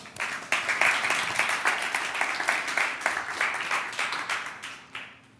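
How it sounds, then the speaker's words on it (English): Audience at a circular fashion demo day applauding the pitching teams, with brisk, dense clapping from a modest crowd that rises quickly, holds steady, and tapers off near the end. "let's applaud for the teams one more time and applaud for yourself"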